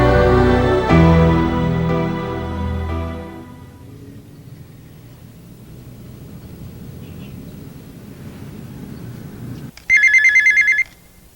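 Music fades away into a quiet hiss, then a telephone gives one loud, bright ringing burst lasting about a second near the end.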